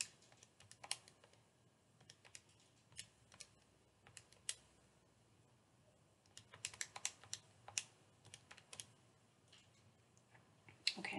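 Fingers type on a computer keyboard in quiet, uneven bursts of light clicking keystrokes with short pauses between them.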